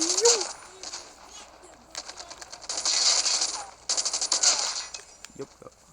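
Bursts of PDW 57 automatic gunfire in the video game Rust, several rapid rattling volleys separated by short pauses, loud and near, with brief speech at the start.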